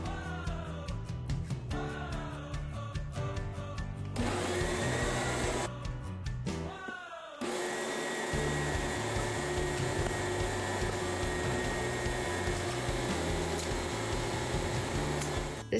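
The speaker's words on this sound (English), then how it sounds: "I'm going to mix this batter for 3 minutes before the next step." Electric mixer whirring steadily through a gluten-free pizza batter made with xanthan gum, a loud continuous motor drone that briefly stops and restarts before running on evenly.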